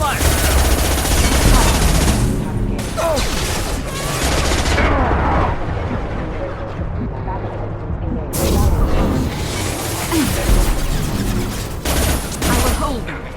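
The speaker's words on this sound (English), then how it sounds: "Taking heavy fire!" Heavy automatic gunfire from the video game Illium, dense sustained bursts and booms filling the scene with a brief lull midway before the barrage resumes, loud and close, with battlefield voices mixed in.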